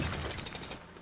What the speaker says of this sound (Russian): Так геймпад вибрирует, когда включаем отбойный молоток, да?